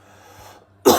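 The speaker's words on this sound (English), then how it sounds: "my abrupt coughing" A single abrupt cough bursts out loud and close at the end, after a near-silent moment with faint low hum.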